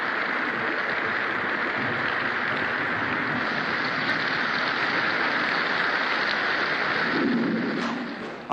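Heavy rain pouring steadily with a low thunder rumble, a dense continuous wash of sound, loud and unbroken, fading slightly at the end.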